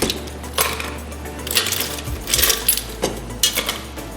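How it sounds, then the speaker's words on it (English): Ice rattling and clinking in a cocktail shaking glass as it is topped up for a Caribbean rum drink, a few irregular bright clatters close by with no talk. "top up with some ice in my shaking glass"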